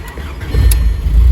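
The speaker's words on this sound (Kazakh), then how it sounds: "Көлік қызды, от алды." A car engine catching after the ignition key is turned, following a battery problem. A short cranking sound rises into a loud, rumbling engine start close by.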